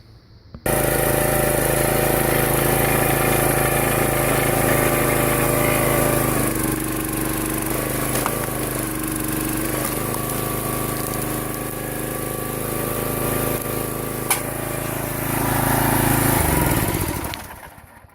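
A log splitter engine fitted with a four-way wedge runs steadily and loudly at close range, a droning motor with a hum that holds for about sixteen seconds and then winds down.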